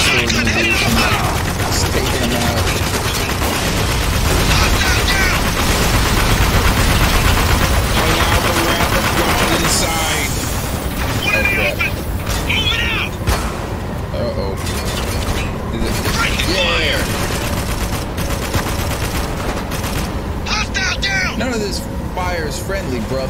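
Sustained video game gunfire: dense bursts of rapid shots and automatic fire continue throughout, loud and close, with excited voices shouting over the shooting.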